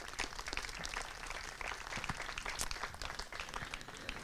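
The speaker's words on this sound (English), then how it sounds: "Please give a round of applause for these folks too." An audience at a Western Piedmont Symphony fall pops concert applauds steadily for several seconds, a thick, even patter of many hands heard from a distance.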